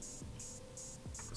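Open hi-hat from a beat hits four times in an even pattern, bright and sizzly, layered over low kick-like thumps, fairly quiet with no voices.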